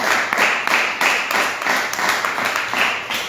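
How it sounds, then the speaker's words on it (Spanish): A church congregation applauds together, a loud, dense wash of clapping that holds steady with slight rhythmic swells throughout. "Denle un aplauso a Dios"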